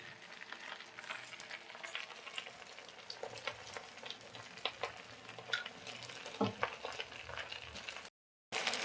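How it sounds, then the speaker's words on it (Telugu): Dried red chillies frying in hot oil for gongura pickle, a steady close crackling sizzle with scattered pops and spatters that cuts off abruptly near the end. "ఇప్పుడు గోంగూర మగ్గేలోపు ఎండుమిరపకాయలు వేయించుకుందాం"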